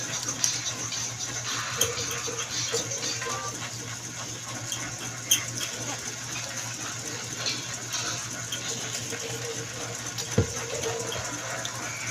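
Water runs steadily from a tap at home, a constant broadband wash that holds throughout, with a voice and other household sounds faintly in the background.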